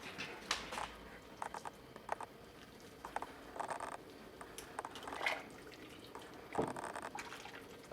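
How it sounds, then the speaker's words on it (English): Sinigang soup poured over rice in a bowl, with faint soft trickles, drips and spoon clinks coming in small bursts against a quiet indoor background. "And then you take the soup and you pour it over top"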